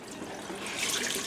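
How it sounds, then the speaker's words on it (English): Water runs steadily from a tap during tie-dye rinsing of a T-shirt, a soft continuous hiss that holds on without a break. "so I'm going to turn the water off."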